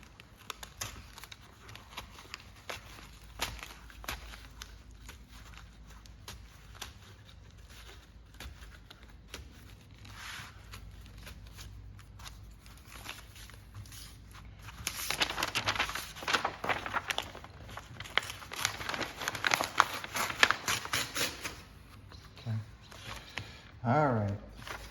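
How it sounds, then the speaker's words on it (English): Scissors or a blade cutting pages out of a book being made into a stunt prop, a run of soft crisp snips and paper rustles that grows louder and busier toward the end. "Just cut these few pages off."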